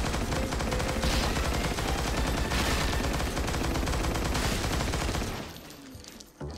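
A rapid burst of gunfire sound effects, dense overlapping shots rattling like machine-gun fire, loud and sustained for about five seconds before cutting off abruptly into quieter room noise.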